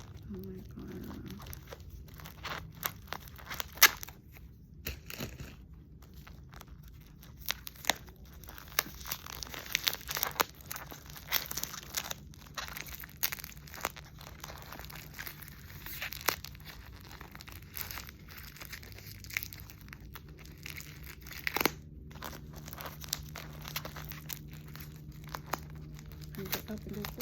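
Crinkly plastic packaging of a bead order being torn open by hand and crumpled, sharp rustling bursts scattered throughout, with some talking in the background.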